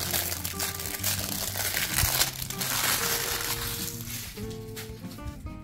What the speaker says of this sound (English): after I surgically remove the plastic film